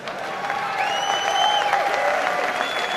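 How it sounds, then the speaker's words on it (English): Audience applause at a live stand-up comedy show, a steady wash of clapping with a few whistles and cheers sustained for about three seconds. "You don't see the women applauding on that."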